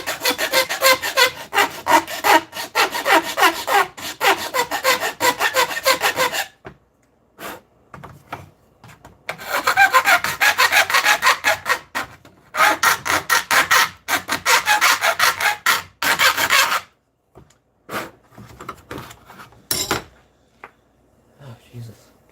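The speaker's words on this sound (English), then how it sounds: "I hate filing so much, but it's the only way to get a precise line with my tools." Steady back-and-forth rasping of a hand file on a workpiece, loud and close in rhythmic bursts of strokes with a few pauses, and a voice speaks briefly between passes.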